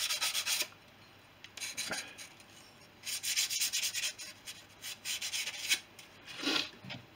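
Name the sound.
polishing the edge of an aileron bell crank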